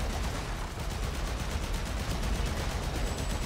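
Continuous rapid gunfire from the video game Warframe, a dense unbroken stream of shots at steady loudness that fills the whole stretch with no voices on top.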